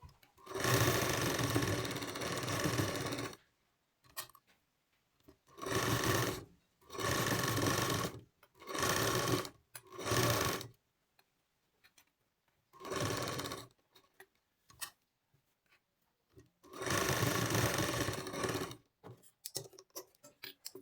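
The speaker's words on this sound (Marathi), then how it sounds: "अशा पद्धतीनं अशी शिलाई करून घ्यायची" A sewing machine stitches a katori blouse in several running bursts of a few seconds each, separated by short silent pauses, loud and close with no talking.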